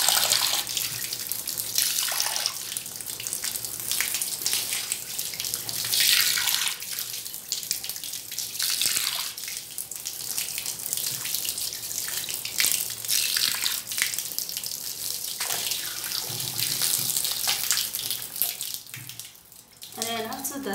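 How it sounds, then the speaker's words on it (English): Running tap water splashing and gushing steadily as feet are rinsed under it, a continuous close wash of water with shifting splashes, while a voice talks intermittently. "So you're gonna be rinsing it just like I'm rinsing mine."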